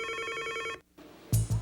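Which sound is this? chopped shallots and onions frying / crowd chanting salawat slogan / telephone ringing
telephone ringing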